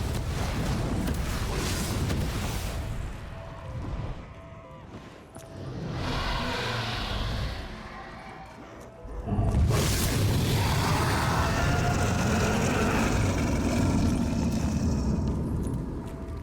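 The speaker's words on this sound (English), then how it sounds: "you will hear this massive dragon roar, which will be an audio cue letting you know that you've gotten 50 kills" A massive dragon roar in the Gorod Krovi map of Black Ops 3 Zombies booms out in long, rumbling bursts over continuous game noise, loudest near the end.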